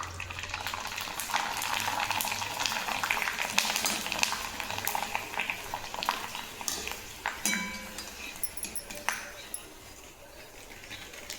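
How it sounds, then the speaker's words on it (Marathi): Sabudana papad puffs up in hot oil with a steady bubbling sizzle and occasional utensil clinks, while someone talks over the frying. "आता हे तळते मी तुम्हाला दाखवते कसं फुलते ते"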